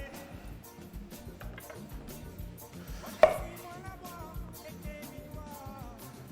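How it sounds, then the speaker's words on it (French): Knife chopping onions on a board for a creamy carbonara, a steady run of soft, quick cuts with one sharper knock partway through, low and close. "On va se couper nos oignons"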